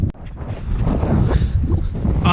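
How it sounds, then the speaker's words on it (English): Strong wind buffets the microphone outdoors during a cold fishing trip, a loud steady rumbling roar with gusty swells and no talking. "this wind is starting to freeze my hands and my whole body"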